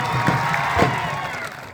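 Crowd at a final match between Chicholi Academy and Bhimpur's Eklavya Academy, a steady wash of cheering and clapping with a couple of louder swells, fairly close and continuous.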